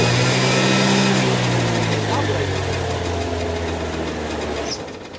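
A moped engine fires up instantly and runs at a steady, buzzy idle close by, fading slightly toward the end while someone talks over it.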